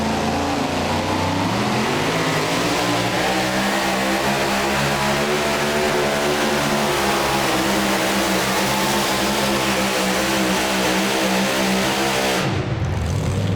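A Chevy super modified two-wheel-drive pulling truck roars at full throttle during a truck pull at the Hillsboro charity event, engine pitch climbing and holding loud and close before cutting off abruptly near the end.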